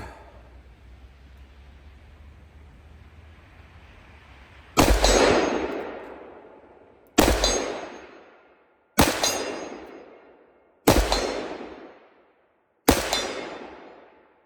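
A SIG 556xi rifle in 7.62x39 fires the rest of its magazine outdoors: five loud, sharp single shots spaced a second or two apart, each with a ringing decay, after a few seconds of quiet background hiss.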